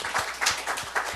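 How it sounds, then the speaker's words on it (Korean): A church congregation claps together during a Korean worship service, a steady run of fairly quiet, close-spaced claps with no talk over it. "박수 올려드려요."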